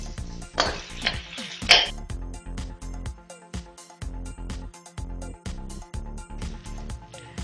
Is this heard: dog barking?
no